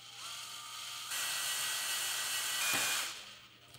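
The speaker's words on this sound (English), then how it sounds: "drill out the rivet on the drain probe" A power drill whines steadily at close range, drilling out the rivet on the drain probe of a Samsung freezer defrost heater, its pitch rising as it bites, then winding down at the end.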